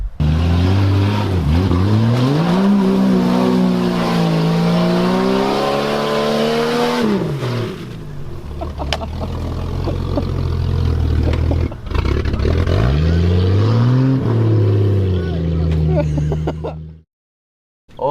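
An old $800 Jeep engine idles and revs with a rough, uneven tone and pitch that rises and falls, running steadily close by for most of the stretch before cutting off near the end, with some talk mixed in.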